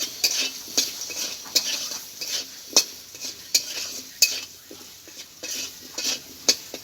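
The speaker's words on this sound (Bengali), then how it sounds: "বন্ধুরা, আলুটা আমার ভাজা হয়ে গেছে, তুলে নিচ্ছি।" Chandramukhi potatoes fry in oil in a pan, a soft steady sizzle underlying regular sharp clinks and scrapes of a metal spatula stirring against the pan, close and without talk.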